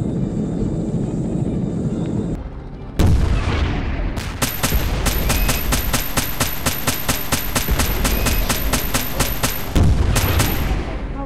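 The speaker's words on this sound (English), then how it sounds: "Explosions! I love explosions!" Helicopter combat video game: a sharp blast is followed by rapid, evenly spaced bursts of gunfire rattling loudly over a constant engine drone, with a further explosion near the end.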